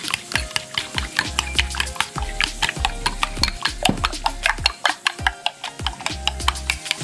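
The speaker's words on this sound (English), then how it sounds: "I'll beat it up for a few minutes." A whisk or fork clicks rhythmically against a bowl, beating a pepper-seasoned egg mixture for BELT sandwiches in a kitchen, a steady run of sharp close taps with low hum beneath.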